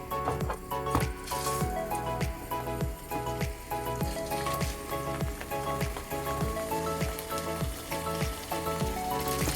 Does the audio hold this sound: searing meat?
yes